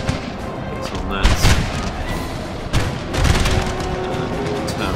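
Cannon artillery fire in a Napoleon: Total War battle: a scatter of distant booms and thuds over a dense, rumbling battlefield din, with two louder clusters of shots.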